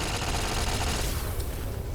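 Rapid turret gunfire rattles in Fallout New Vegas during the Old World Blues finale, a dense, continuous burst of automatic shots that stays loud and close throughout.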